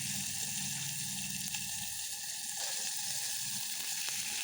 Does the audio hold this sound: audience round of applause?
no